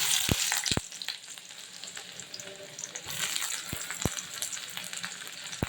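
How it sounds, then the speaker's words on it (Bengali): Whole spices such as cumin sizzling as a tempering hits hot oil, with a steady hiss of frying and several sharp clinks and scrapes of a utensil against the pan. "ফোড়ন দিব একটু"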